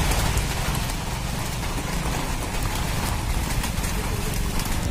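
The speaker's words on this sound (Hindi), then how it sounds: "ये देखो बारिश चालू हो गई" Steady, dense rain pours down continuously on a golf ground, a close broadband hiss with irregular patter on surfaces and no talking.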